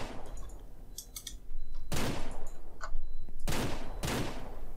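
Rapid bursts of gunfire ring out at a deer in Ranch Simulator, a few quick shots at first and then loud sustained volleys in several close, dense clusters.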